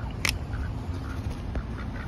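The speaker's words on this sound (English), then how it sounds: "They literally have a duck house." Baby ducks by a duck house let out a few quick, clear quacks against constant outdoor noise, one sharp call standing out near the start.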